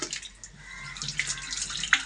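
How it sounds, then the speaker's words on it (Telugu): Water poured into a pipe, a soft steady splashing rush with a few brighter drips and trickles, fairly close and continuous for about two seconds, with no talking. "వాటర్ అనేది పోసుకోవాలి."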